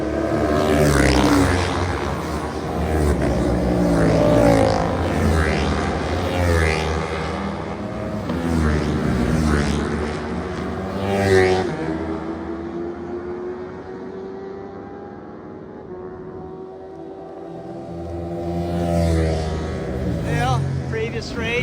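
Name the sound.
older race motorcycles on track at Ridge Motorsports Park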